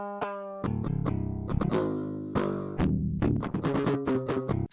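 Clean, dry direct-input electric guitar playing a chugging riff with sustained notes and quick palm-muted hits, loud and close.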